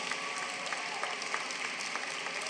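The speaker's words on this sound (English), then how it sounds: "We have one more round of applause for our winners and all these amazing graduates." An audience at a school graduation ceremony applauding graduates and award winners, a steady wash of clapping heard from a distance and fairly faint.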